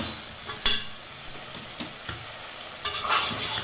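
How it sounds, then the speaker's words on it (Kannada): Avarekalu (hyacinth beans) frying and being stirred in a pan, a steady sizzle broken by sharp spoon-against-pan scrapes and clacks near the start, middle and end, close by with no talk. "ಸೊ ಇವಾಗ ಸ್ವಲ್ಪ ಹಸಿ ವಾಸನೆ ಎಲ್ಲ ಹೋಗೋ ಥರ ಫ್ರೈ ಆಗಿದೆ"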